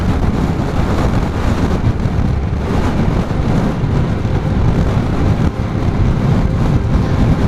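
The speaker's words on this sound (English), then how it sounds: "North York Moors open up, as does the wind." Blustery wind buffets the microphone on a Honda NT700 motorbike ride across the open North York Moors, a loud, continuous broadband roar with engine and road noise blended in throughout.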